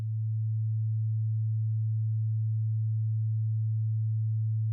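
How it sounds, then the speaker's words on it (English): A pure low sine tone left after a steep low-pass filter strips the higher harmonics from a harmonic waveform, holding steady and unbroken at an even level throughout, with no other sound. "If I take a steep low-pass filter and filter out all the harmonics above the first, we're left with just a sine wave."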